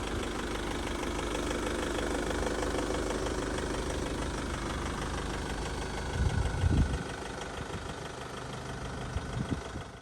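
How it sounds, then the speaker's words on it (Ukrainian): A 2012 Chevrolet Captiva engine idles steadily and smoothly at close range, an even low rumble with a couple of brief thumps near the end; no voices. "Бачимо, що двигун працює чітко, тихо, м'ягко і рівненько."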